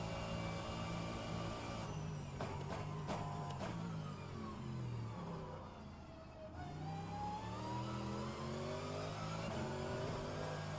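Mercedes and BMW GT3 race cars in rFactor 2 at Bahrain, engines revving and shifting through gears, pitch rising and dipping through a slow corner before climbing again, continuous and fairly close.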